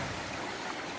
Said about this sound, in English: we have water running. It's just flowing. It's flowing pretty good.